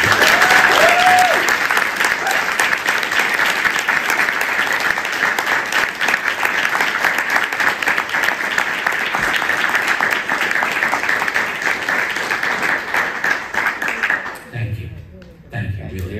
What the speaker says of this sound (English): give a round of applause for my sister, the hero, Sharon Feldstein.